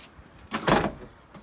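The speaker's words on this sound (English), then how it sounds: "when you close the door" A car door on a Subaru WRX being swung shut, one dull muffled thud with a short rustling before it, close and moderately loud, no voices.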